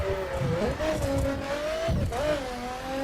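Car tires skid and squeal through a high-speed turn in the racing game The Crew, with a steady engine hum under the wavering tire squeal and faint talk over it.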